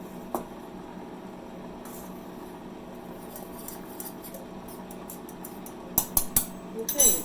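Spoon stirring ingredients in a bowl for a Kletzenbrot-style fruit bread: a quiet room, then a few light metallic clinks in quick succession near the end.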